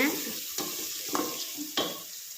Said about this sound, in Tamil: வெங்காயம் தக்காளி நல்லா வணங்கட்டுங்க.